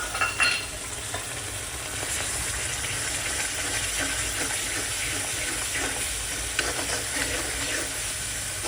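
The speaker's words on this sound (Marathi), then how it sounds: "बारीक गॅसवर मसाला आपण परतून घेऊया।" Masala for a drumstick (shevga) curry sizzling and frying on low gas, a steady hiss of spices in hot oil with faint stirring scrapes throughout.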